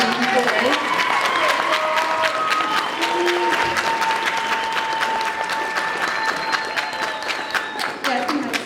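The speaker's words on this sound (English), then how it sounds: "All right, so let's take a round of applause for these boys." A swim banquet audience claps in a dense, sustained round of applause that stays loud and even throughout, with a few voices faintly audible underneath.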